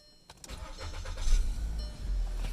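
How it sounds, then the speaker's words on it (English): A 2015 Volkswagen car engine cranks and fires up, settling into a steady, fairly loud low rumble close by with no talking. "Start the car."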